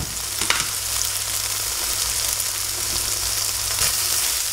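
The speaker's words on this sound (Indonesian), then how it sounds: "Goreng sebentar." Garlic sizzles in hot oil in a pan alongside tofu, a steady crackling fry with occasional sharper pops and stirring scrapes, continuous and close with no voices.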